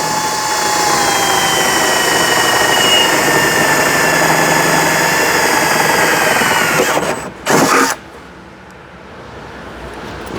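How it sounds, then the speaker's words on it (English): A power drill whines steadily at high speed for several seconds, drilling out a hole while installing a ladder, then cuts off, with a brief burst and a quieter hum after. "we'll go ahead and drill this guy out again"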